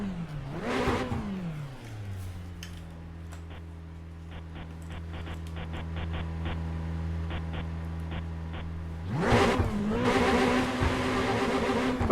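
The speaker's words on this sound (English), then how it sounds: "let's kill the music and let's see how loud the engine is" A race car engine in the video game Assetto Corsa revs up sharply, settles into a steady idle drone with faint clicks, then roars back to a high rev at the end, with no talking.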